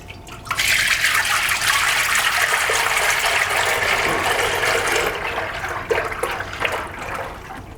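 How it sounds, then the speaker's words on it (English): Maple sap pours steadily into a pot for syrup making, a loud, close rushing gush of liquid that runs continuously and eases slightly toward the end. "So now we're going to add the sap to the pot and get the process going."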